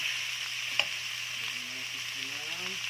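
Beef sautéing in a pot for Filipino beef puchero, a steady broadband sizzle with a soft clink near the start and faint stirring, no talk.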